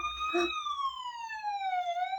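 A toy ambulance siren wails, a steady electronic tone sliding slowly downward, close by, with a brief muffled noise at the start.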